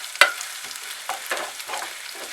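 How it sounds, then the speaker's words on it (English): Raw cardamom seeds frying in a pan for pilau, giving a soft crackle with a sharp click at the start and scattered scrapes of stirring that come and go. "And some few raw cardamon seeds. Cook them for some time"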